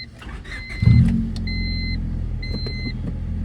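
A high-mileage car engine cranks and catches with a low rumbling idle that settles and holds steady, close by, with faint electronic chimes from the dashboard beeping at intervals.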